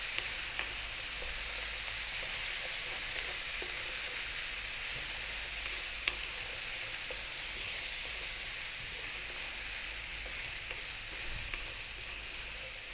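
Spiced vegetables sizzle steadily in a pan over above-medium heat with cumin, chili powder and sweet paprika, a continuous even frying hiss broken by occasional soft clicks of stirring, close and constant with no talking.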